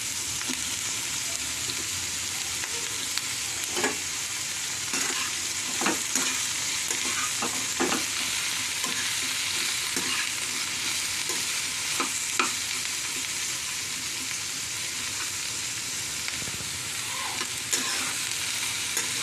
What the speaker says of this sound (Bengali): ভালো করে নেড়ে নেব। এবার এর মধ্যে বেগুন টুকরোগুলোও দিয়ে দেবো।